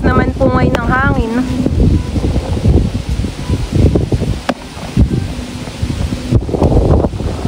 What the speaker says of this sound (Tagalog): Lakas naman po ngayon ng hangin.